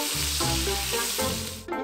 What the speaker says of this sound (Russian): обжариваем лук 2 штуки.